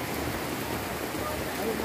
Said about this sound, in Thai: และฝนก็ตกค่ะ